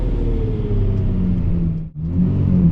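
Lamborghini LP640 engine roaring loud and close under hard acceleration, the deep drone climbing in pitch, briefly dipping at a quick gear shift, then pulling hard again.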